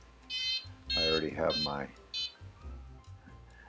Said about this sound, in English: Vario that's beeping at me already.